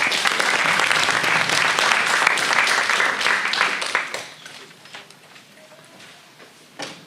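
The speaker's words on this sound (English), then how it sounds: "So can we have a round of applause?" Audience applause at a learning disability presentation, a dense sustained wash of clapping for about four seconds that then thins out and fades to scattered claps.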